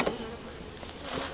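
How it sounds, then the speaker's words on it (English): Honey bees buzz in a dense, continuous drone close by, a steady hum with no voices, lasting just over a second. "So there's not a lot of bees up in here either."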